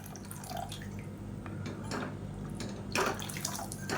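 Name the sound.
water being added to chutney in a pan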